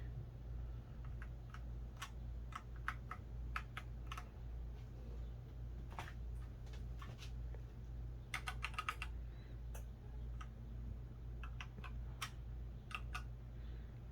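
A KEBOHUB EE01 keyboard is typed on in quiet, irregular clicks and short bursts of keystrokes, alone with no speech.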